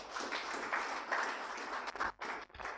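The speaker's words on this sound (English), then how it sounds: "Let's first give him a big hand clap" Steady applause from a crowd, a continuous wash of hand clapping that dips briefly near the end before picking back up.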